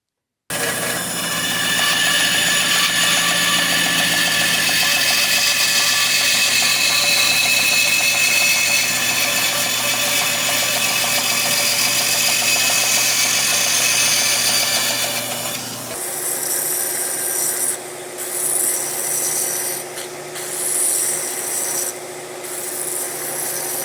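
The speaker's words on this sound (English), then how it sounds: "this is sanded on the belt sander" Power-tool abrasion on a fillet knife handle scale, a long steady grinding rub on a belt sander for about sixteen seconds, then a quieter, uneven stretch of lighter contact and motor hum.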